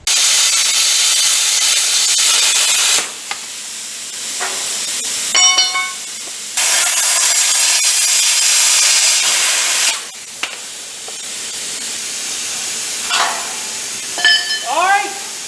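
Cut-off wheel slicing through a metal trailer frame, a loud sustained broadband hiss in long bursts broken by short pauses, with a few brief squeaky tonal chirps between cuts.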